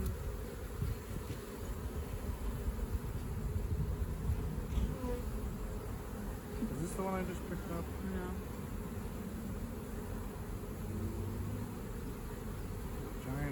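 A swarm of honeybees drones steadily while frames of brood and honey are moved during a swarm trap transfer. A voice speaks briefly over the constant close buzzing.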